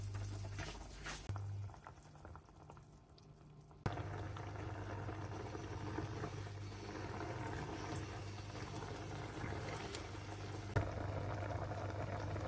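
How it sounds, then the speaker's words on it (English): Cola sauce simmers with chicken wings in a covered pan, a soft, steady bubbling and sizzle over a low hum, faint and continuous with a couple of small knocks. "Cover and simmer for 15 minutes."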